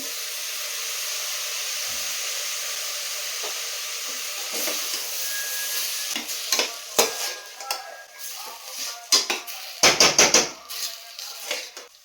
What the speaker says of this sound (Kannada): ರುಬ್ಬಿಟ್ಕೊಂಡಿರೋಂಥ ಮಸಾಲೆನ ಹಾಕ್ಕೊತಾ ಇದ್ದೀನಿ ನಾವಣೆ ಅಕ್ಕಿನ ಹಾಕ್ಕೊತಾ ಇದ್ದೀನಿ